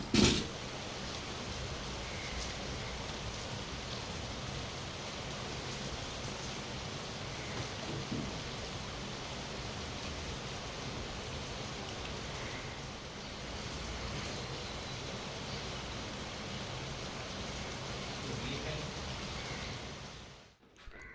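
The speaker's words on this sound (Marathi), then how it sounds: "थोडा वेळ मग असंच पावसाला बघत एकदम शांततेत बसून राहिली" Steady evening rain falls outside a window, a continuous even hiss of drops that holds at one level for about twenty seconds before cutting off, with no voices.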